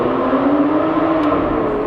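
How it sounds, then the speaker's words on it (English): V12 engine of an Aston Martin Vanquish, a steady, loud, close mechanical drone that holds a constant pitch without rising. "It sounds so good. It's a V12."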